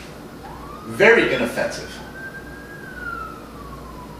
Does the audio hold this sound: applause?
no